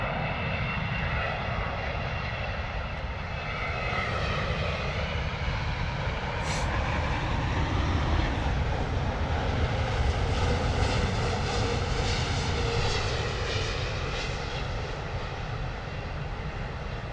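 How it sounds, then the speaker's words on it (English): A British Airways Boeing 787 Dreamliner lands at London Heathrow Airport, its engines producing a loud, sustained jet roar that holds steady throughout with a brief sharp hiss midway, and no voices. "Oh, lovely touchdown there from the British Airways Dreamliner. Coming in fast."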